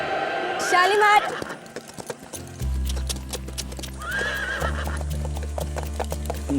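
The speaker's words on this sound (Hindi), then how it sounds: "एक काम करो चरणदास, इसका सैडल वगैरह सब उतार के इसे बाहर ले आओ खुली हवा में।" A horse neighs and whinnies close by in a drama episode, a loud rising whinny near the start followed by another call later, with clopping hooves and a low music swell underneath.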